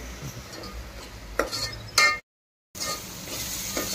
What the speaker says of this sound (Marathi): हे वाटण चांगलं फ्राय करून घेऊया. तेल सुटेपर्यंत फ्राय करायचं.